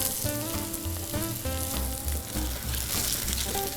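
Food sizzles in a pan with garlic and a sprig of rosemary, a bright crackling fry heard under melodic background music.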